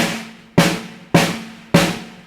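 Three sharp snare drum strikes with the snares on, each a crisp, rattling burst that decays quickly, evenly spaced and close.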